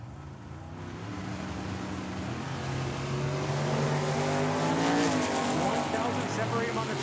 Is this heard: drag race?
yes